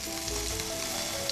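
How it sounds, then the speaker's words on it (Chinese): Scallops patted dry and laid in a very hot, fast-heating pan give a strong, continuous sizzle, dense and even throughout with no speech over it. "要很热了之后放下去，你要听到呲的声音哦"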